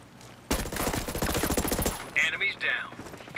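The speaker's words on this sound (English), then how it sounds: "I hear an enemy fire" Enemy gunfire in Ghost Recon Breakpoint, a sustained burst of rapid automatic shots lasting about a second and a half, followed by softer game effects and radio-like tones.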